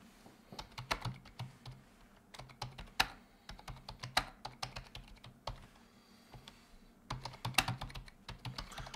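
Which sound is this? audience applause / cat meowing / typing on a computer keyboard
typing on a computer keyboard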